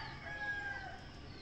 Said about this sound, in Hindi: मुर्गी